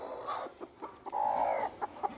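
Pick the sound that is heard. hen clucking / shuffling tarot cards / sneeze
hen clucking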